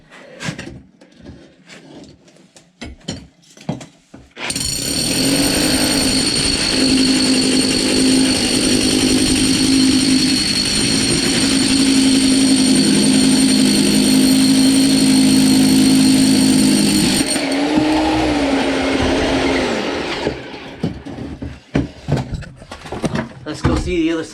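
A loud, steady power-tool whine of a Metabo SDS hammer drill drilling through a brick wall runs for about fifteen seconds, with scattered handling noises and brief speech before and after.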